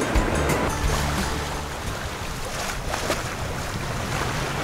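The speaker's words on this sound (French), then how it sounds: "Ça y est, le vent a repris." Steady wind rush and breaking waves around a sailboat on the open sea, a continuous loud wash with gusty microphone buffeting and no voices.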